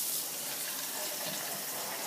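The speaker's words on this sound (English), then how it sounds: "Hey, that's hot water." A shower runs with a steady, dense hiss of falling water, close and constant, with no break for the whole stretch.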